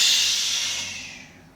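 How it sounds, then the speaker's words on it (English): A long exhale during a yoga session, a loud close breathy hiss that fades steadily over about a second and a half, with no talk. "We're going to exhale."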